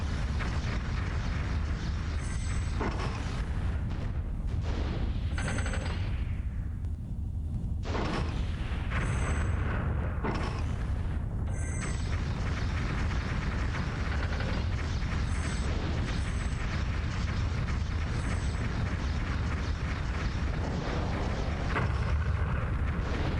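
Gunpowder bomb blasts and cannon-like booms in the airship game Stratosphere: Conquest of the Skies, a continuous low rumble with repeated muffled explosions and mechanical clatter throughout, no voices.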